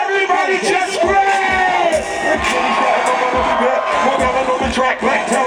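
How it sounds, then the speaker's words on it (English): Concert crowd at a hip-hop show at the Boston Freedom Rally, screaming and cheering loudly and continuously, with shouts and whoops rising from the mass of voices and rhythmic bass thumps underneath. "Everybody just scream!"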